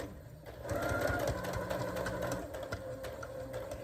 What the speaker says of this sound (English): I'm going to take my sewing machine that I have threaded with coordinating thread, top and bottom, and I'm going to sew around the rabbit